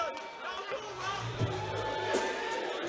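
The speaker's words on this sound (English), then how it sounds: "Quite a subdued crowd during this fight." Subdued crowd at an amateur boxing fight in Dudley: a low, steady murmur of chatter fills the hall, with no cheering swells, and a commentator talks over it.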